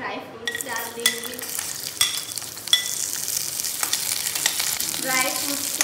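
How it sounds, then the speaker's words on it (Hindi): Dry fruits roast in hot oil or ghee in a kadai, giving a steady sizzle with stirring scrapes and clinks throughout, close and moderately loud, with no talking. "तेल गरम हो जाने पे ड्राई फ्रूट्स डाल देंगे"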